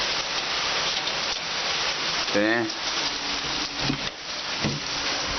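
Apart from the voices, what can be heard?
heavy typhoon rain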